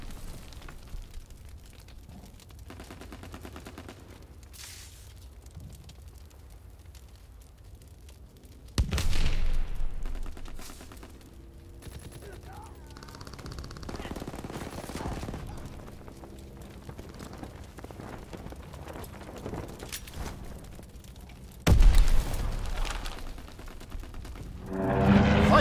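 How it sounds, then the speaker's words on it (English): Gunfire and explosions from a strafing run in the Call of Duty WWII game rumble through a busy battle mix, with several sudden loud blasts standing out from ongoing shooting. "call for a strafing run."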